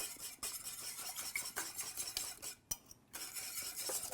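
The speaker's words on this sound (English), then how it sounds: "So I've got 3 eggs here, which I'm gonna just beat just slightly before adding." Three eggs beaten lightly with a whisk or fork in a bowl for a coconut pumpkin pie filling, a fast, steady scraping and clicking rhythm close up, with a brief pause near the end.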